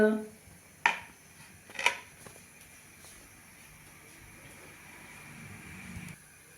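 A radish paratha is lifted from the pan onto a dish with a couple of sharp metallic clinks of utensil on cookware, followed by quiet kitchen background.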